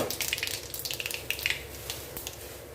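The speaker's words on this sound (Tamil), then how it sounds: "கடுகு சீரகம் சோம்பு நல்லா பொறிஞ்சு வரட்டும்" Mustard, cumin and fennel seeds splutter in hot oil in a clay pot, giving rapid, irregular crackling pops that come in bursts and then thin out. The sound is soft and close, with no voices.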